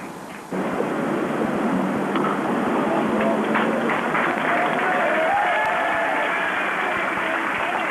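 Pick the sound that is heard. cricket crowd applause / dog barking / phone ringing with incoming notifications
cricket crowd applause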